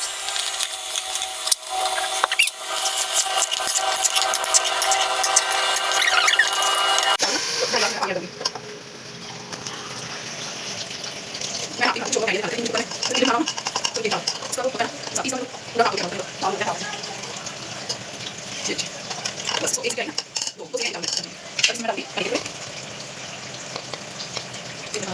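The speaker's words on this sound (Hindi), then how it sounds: "अब मैं चावल ऐड करूँगी।" Rice tipped into a pan of lightly sautéed vegetables while making pulav, giving a steady close hiss and rattle for several seconds before it settles into softer stirring scrapes with someone talking over it.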